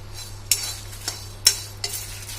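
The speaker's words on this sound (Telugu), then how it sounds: "పల్లీలు శనగపప్పు కొంచెం వేగిన తర్వాత మినపప్పు అయితే వేసేసుకుంటున్నా" Peanuts, chana dal, urad dal and dried red chillies roast in a pan for a dondakaya menthikaram curry, heard as a soft steady sizzle broken by a few sharp clinks of a spoon stirring.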